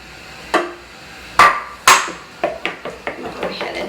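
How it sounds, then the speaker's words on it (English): Sharp clattering taps of a whisk or utensil against a bowl while eggs, Dijon mustard and Worcestershire sauce are beaten for turkey meatloaf, a few loud knocks followed by quicker, lighter rhythmic clinks, close by with no talking. "I'm going to go ahead and break up these egg yolks here. Whisk this around here."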